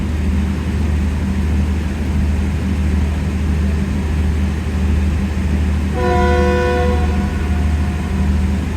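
The Awam Express passenger train departs Gujranwala Cantt station with a steady, loud engine rumble. Partway through, a single sustained horn sounds for about a second, then the rumbling continues.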